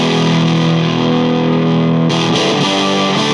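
Electric guitar through a Windmiller preamp pedal with the volume turned up, a loud, dense distorted chord ringing steadily, then fresh strums near the end, with no voice.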